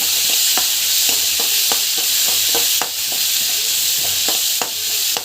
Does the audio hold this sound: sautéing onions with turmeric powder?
yes